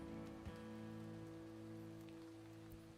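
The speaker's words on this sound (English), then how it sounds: "Plus it's raining, so..." Steady rain falls in a video game as a faint, continuous hiss. It sits under sustained tonal background music, with no talking.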